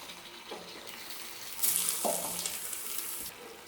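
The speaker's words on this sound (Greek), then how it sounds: "Προσθέτουμε νερό" Water is poured into a pot of sliced cuttlefish and peppers cooking for a black-eyed pea stew, giving a rushing, sizzling hiss that swells for a couple of seconds after faint stirring clinks, near and moderately loud.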